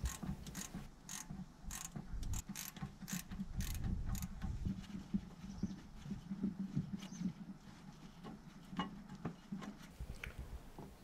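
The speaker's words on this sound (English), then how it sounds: "Unscrew the upper bolt. This is a bolt which was stripped." A stripped upper bolt on a Peugeot 307 brake caliper being unscrewed, giving repeated close metallic ratcheting clicks and rattles with dull mechanical knocks, steady and fairly quiet throughout, with no talking.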